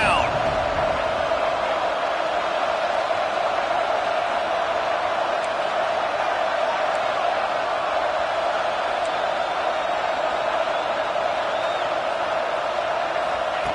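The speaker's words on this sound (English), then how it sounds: "Crowd getting this defense whipped up on 3rd down." A football stadium crowd roars steadily on third down, a dense sustained wall of noise with scattered whistles and shouts, loud and constant throughout.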